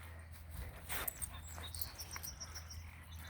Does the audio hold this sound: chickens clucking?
no